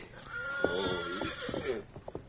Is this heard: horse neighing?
yes